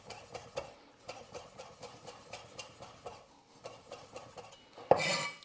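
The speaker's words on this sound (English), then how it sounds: "Just going to chop that up." A knife chops fresh rosemary on a cutting board in a steady, even rhythm of close, crisp taps, ending with a short louder scrape, with no talking.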